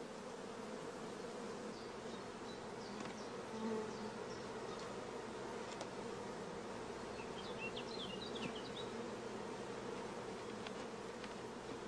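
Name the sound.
honeybees buzzing at an open beehive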